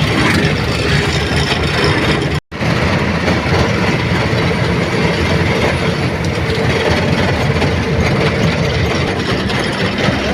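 Loud, continuous rumble and rattle of a cement freight train rolling past close by in rainy rural countryside near rice fields, steady clatter of wagons filling the whole stretch with one brief dropout.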